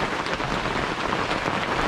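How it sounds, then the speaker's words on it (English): Heavy rain pours steadily onto a log cabin in a storm, a dense close roaring hiss with a low rumbling undertone, continuous and without voices. "we got thunder and lightning and heavy rain going on"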